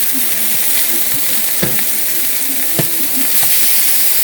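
Horseradish burgers browning in olive oil in a pan, a loud, steady close-up sizzle with occasional pops and soft clicks.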